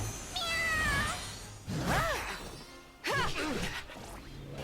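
A cat character meows in the mobile game Seven Knights Rebirth, a few high, bending mewing cries amid game effects, with a voice speaking over parts of it.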